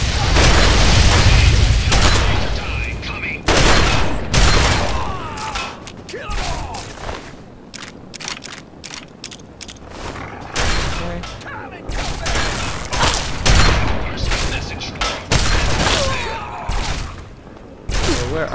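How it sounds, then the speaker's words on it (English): Gunfire in Fallout 3, repeated sharp shots and bursts in irregular clusters, loud and close, mixed with mechanical clanks and a voice talking between them. "Where are the other guys shooting me from?"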